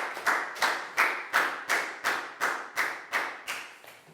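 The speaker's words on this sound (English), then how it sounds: "Big round of applause for Down." A class claps in unison, about eleven sharp even claps in a steady rhythm, fairly close and moderately loud with no talking.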